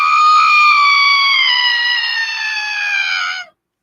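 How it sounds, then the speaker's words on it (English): A produced scream sound effect: one loud, sustained, harmonically rich shriek that slowly falls in pitch over about three and a half seconds, heard alone, then cuts off abruptly. "it was a really loud scream sound that was generated by our production team"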